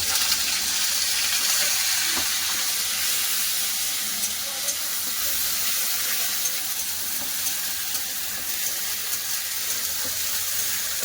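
Ginger paste frying in a pan, with yellow turmeric powder added, for a village-style pumpkin and potato dish, sizzling steadily and loudly with no pause and no talk.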